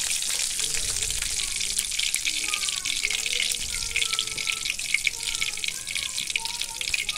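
Cumin seeds and lightly crushed whole garam masala fry in hot oil for a vegetarian potato dish, giving a steady soft sizzle with faint crackles throughout, close and continuous, with no talking over it.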